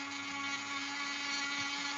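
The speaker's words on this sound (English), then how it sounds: "Give the Dremel a break." A Dremel rotary tool grinds a cheese knife, a steady high-pitched whine with a constant tonal hum and bright grinding hiss, close and continuous for the whole stretch.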